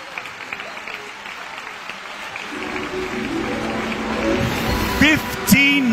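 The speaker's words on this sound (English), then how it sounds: "Minutes of clapping and cheering, standing ovations" Sustained applause and cheering from a large assembled crowd at the first Zionist Congress, a dense wash of clapping that swells louder through the middle, with scattered shouts and whistles rising near the end.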